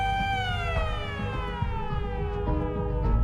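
Emergency sirens wailing with descending tones over a low rumbling background, loud and continuous for a few seconds, no voices.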